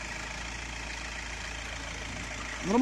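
A VW Passat B5 engine idles steadily at close range, a constant low hum throughout with no voices, and a slight swell of louder noise at the very end.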